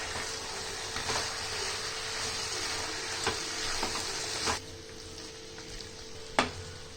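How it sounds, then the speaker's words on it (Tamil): Chettinad chicken frying with freshly ground masala, heard as a steady dense sizzle with occasional spatula scrapes as it is mixed, close up with no voices. "மசாலா ஆட் பண்ணிட்டு நல்லா மிக்ஸ் பண்ணி விட்டுருங்க"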